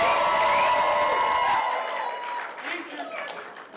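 A crowd at a retirement party cheers and claps, loud, mixed shouts and whoops over clapping that cut off sharply, leaving scattered fading voices and a few claps.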